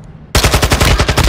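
Rapid automatic gunfire in the Warzone video game, a loud burst of closely spaced shots that starts abruptly after a moment of near silence and carries on steadily to the end.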